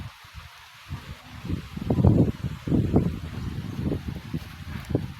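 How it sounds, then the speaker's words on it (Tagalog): Cold, gusty wind buffeting the microphone in low rumbling bursts, rising and falling over several seconds outdoors. "Tugnaw ang hangin oy."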